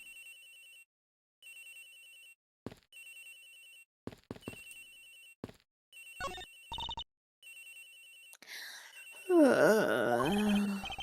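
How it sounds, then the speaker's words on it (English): Agent Hicks's cell phone rings in an Ace Attorney Investigations video game, a repeating electronic ringtone in short bursts with gaps, joined near the end by a louder wavering moan. "Agent Hicks's phone! It's ringing from somewhere, sir!"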